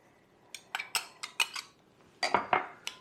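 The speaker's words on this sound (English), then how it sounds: "Give that a good stir." Cornbread batter with jalapenos and onion, oil and milk is stirred in a bowl, a series of about a dozen sharp, close utensil clinks and taps arriving in irregular bursts over near silence.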